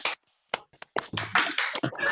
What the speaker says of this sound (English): Feel free to actually give Daniel the applause he deserves